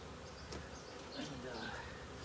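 Bees hum around an opened beehive during the first hive inspection of the season, with the entrance reducer removed. A soft, steady buzz of many insects continues close by for the whole moment, and a few louder passes rise briefly above it.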